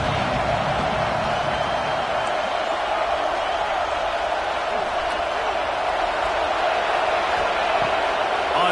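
A dense, steady roar from a home stadium crowd at a college football game fills the air, loud and continuous throughout, with no breaks.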